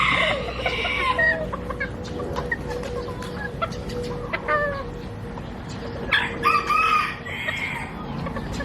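Black bantam chickens cluck repeatedly and crow in short bursts nearby, with a faint murmur of other birds in the background.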